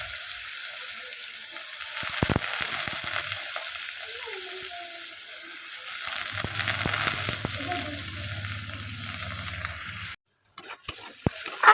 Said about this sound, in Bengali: তারপর ছোট ছোট করে আলু কেটে রেখেছিলাম, আলুটা দিয়ে নিচ্ছি